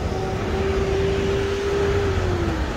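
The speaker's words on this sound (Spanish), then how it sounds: "Ya se dejaron venir los carros de la hora pico" Steady traffic noise along a road beside a full reservoir dam in Matamoros at rush hour, a continuous near rumble with one vehicle's drawn-out tonal whine passing and fading, no talk.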